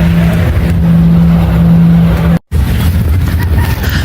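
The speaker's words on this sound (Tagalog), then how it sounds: "Nasa beach nagda-drive." A car drives on a beach, giving a loud, steady engine drone with a brief cut partway through, and no talking.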